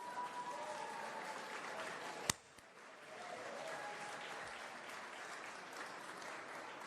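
Audience applause at a live video game awards show, a steady wash of clapping that briefly cuts out after a sharp crack midway, then swells back at moderate level with no talking.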